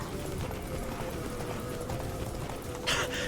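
Roach the horse gallops in The Witcher 3, hooves clip-clopping steadily over a continuous game soundscape, with a brighter burst near the end.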